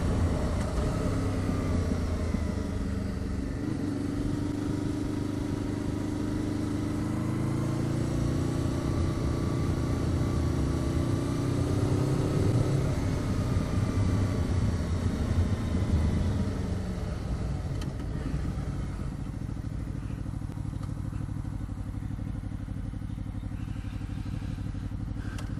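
A Honda VFR800 VTEC motorcycle rides along a road, its engine a continuous droning rumble with gently rising and falling revs, mixed with steady wind and road noise.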